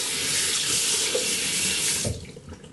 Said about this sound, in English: after every time I roll, I rinse my hands off with water